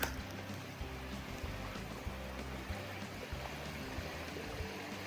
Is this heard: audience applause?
no